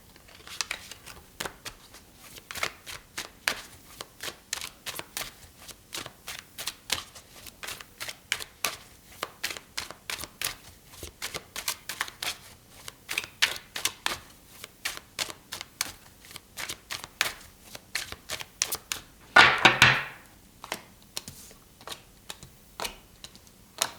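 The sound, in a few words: tarot cards being shuffled and drawn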